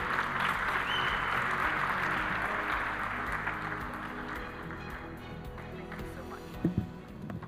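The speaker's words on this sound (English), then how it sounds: "Can we keep clapping until she gets here?" A conference audience at a forum claps steadily in a broad wash that slowly thins out. A few louder knocks come near the end.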